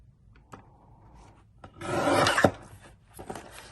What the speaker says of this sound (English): on this part, I'm going to cut off 1 inch, and this will become a book plate